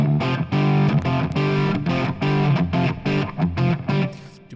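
Electric guitar played through a Fractal amp preset with a slightly dirty, distorted tone, loud rhythmic strummed chords and short gaps between them, fading out at the end.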